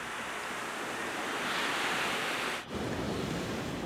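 Ocean surf washes onto a beach in Puerto Vallarta as a continuous, loud, close hiss of breaking water, with gusts of wind buffeting the microphone and a brief dip near the end.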